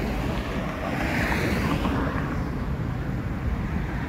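Sea surf at Boa Viagem beach on a clear day with an offshore land breeze, a steady broad wash of breaking waves mixed with wind rumble on the microphone, continuous and fairly loud with no voices.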